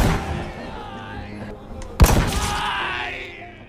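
A sharp sniper rifle shot cracks out midway through a war film scene, a single loud report with a trailing echo over a bed of background rumble and music.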